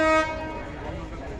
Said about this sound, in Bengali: আন্তনগর বাংলাবান্ধা এক্সপ্রেস ট্রেনটি এই যে দেখতে পাচ্ছেন এখন প্রবেশ করছে